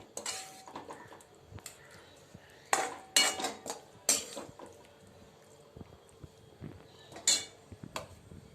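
A spring onion vegetable dish is spooned into a metal tiffin box, giving close, intermittent clinks and scrapes of spoon on metal, with several sharper clanks in bursts and no talking.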